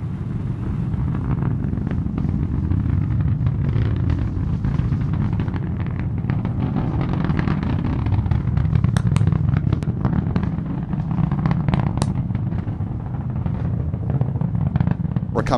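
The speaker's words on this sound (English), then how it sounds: "Liftoff of the Falcon 9 rocket on the NG-23 mission, carrying the first Cygnus XL spacecraft" Falcon 9 rocket lifting off on the NG-23 mission carrying the first Cygnus XL spacecraft, a continuous heavy low rumble heard from a distance with scattered crackling pops, steady and sustained throughout.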